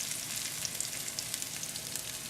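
Steady, dense sizzling of breaded chicken frying in hot oil, a continuous crackling hiss with tiny pops, close and fairly loud, no voices.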